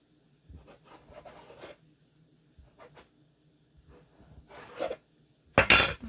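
Risen, sticky hot dog bun dough is cut into sections, giving soft intermittent scrapes and rasps with quiet gaps between them and a sharper, louder scrape at the end.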